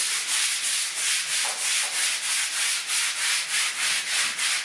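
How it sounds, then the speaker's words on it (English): An OX Pro pole sander on a short pole sands a wall, giving a steady rhythmic scrubbing of even back-and-forth strokes, close and fairly loud, with no talking. "So I've put the pole sander on my small pole,"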